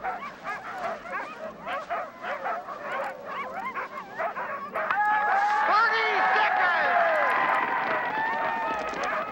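Sled dogs barking, yipping and whimpering in a busy chorus, sharp barks in the first half giving way to sustained whines and yelps, with a crowd murmuring faintly behind.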